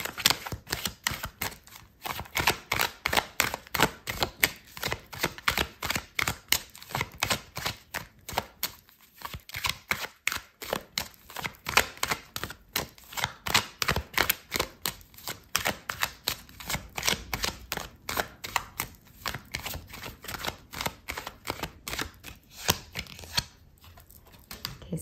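Tarot cards are shuffled continuously for a long stretch, making rapid, close, crisp papery clicks and flutters in a steady rhythm with no voices.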